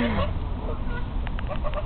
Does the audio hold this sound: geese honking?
yes